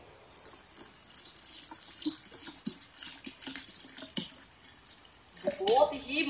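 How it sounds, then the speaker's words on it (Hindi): Water is poured from a container into ground banana juice in a jug, a soft, steady trickling splash that continues for several seconds and swells into a louder gush near the end. "अब इसमें पानी डाल लेंगे।"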